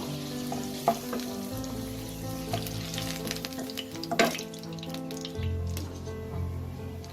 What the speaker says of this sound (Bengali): এই আলুগুলোকে ভেজে নেব, লাল করে ভেজে নেব।